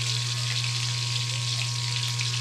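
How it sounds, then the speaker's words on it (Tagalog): Fresh rock fish from Olango Island frying in a pan, a steady close hiss of sizzling oil running unbroken with no talk and a faint low hum underneath. "Nagprito po ako ng isda."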